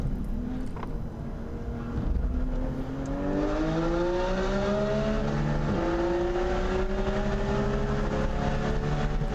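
A Porsche GT4 RS racing on a circuit, with a loud sustained engine drone rising steadily in pitch through the gears as it accelerates, heard from inside or close by.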